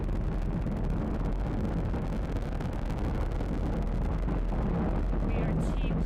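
A SpaceX Falcon 9 rocket lifts off on the Crew-2 Dragon mission, its nine Merlin first-stage engines producing 1.7 million pounds of thrust in a loud, steady, crackling roar that fills the whole stretch without a break.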